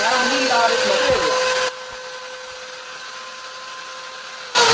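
A power drill shaving out the inside of a part, a loud whirring cut for a second and a half, then a quieter lingering whine before the drill roars up again at the end.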